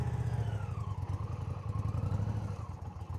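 A motorcycle engine runs with throttle held steady at a low load, a close, even rumble with rhythmic pulsing and slight wavering in pitch over a few seconds.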